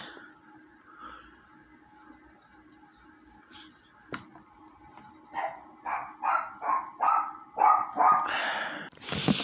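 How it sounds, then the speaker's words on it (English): A dog barks repeatedly in the background, a string of sharp, evenly spaced barks rising in loudness after a quiet stretch with a single click. "I really hope my dog did not just fully pick up in the background"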